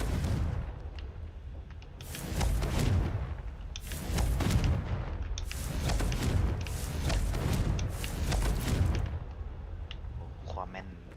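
Confringo blasting spells explode in Hogwarts Legacy as a rapid series of about six booming bursts with crackling tails, spaced a second or two apart, with voices heard intermittently around them.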